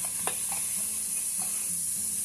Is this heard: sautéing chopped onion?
yes